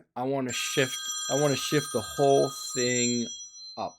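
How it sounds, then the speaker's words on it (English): A telephone rings with steady, bright repeating tones under a person's continuous speech. "Hey, apologies for that phone ring."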